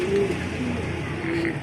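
Racing pigeons coo softly in a loft, with a few short, low warbling calls standing out over a steady background hum.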